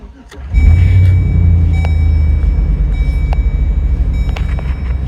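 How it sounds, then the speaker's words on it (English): A 2003 GMC truck engine cranks briefly and catches, then settles into a loud, steady low idle rumble with a faint high whine on top. "Alright, we're going to fire the truck up."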